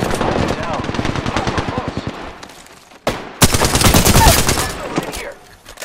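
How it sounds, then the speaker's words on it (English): Video game gunfire from enemies comes in loud, rapid automatic bursts of machine-gun shots, then a short lull and a sharp, louder volley, with a voice speaking over parts of it. "The enemies are shooting at me."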